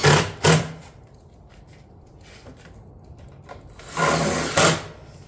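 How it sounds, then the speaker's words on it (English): A stitch screw is driven through a metal cottage-style ridge vent cap on a shingle roof, giving two short bursts of high-pitched drill whine at the start and a longer run of drilling near the end, loud and close with no talk. "Now on the ends here, we can go ahead and throw a stitch screw in this guy."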